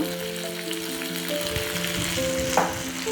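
Chopped medium tomatoes dropped into hot oil for a spicy chicken fry set off a loud, steady sizzle that flares briefly, with no talking.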